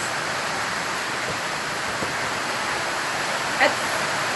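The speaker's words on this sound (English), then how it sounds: "That rain is coming down." Steady rain coming down outdoors, a continuous even hiss of drops with a brief small knock near the end and no talk.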